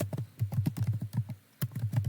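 Quick, even keystrokes on a computer keyboard enter a username, clattering close and clear in a steady run, with one short pause before the tapping resumes.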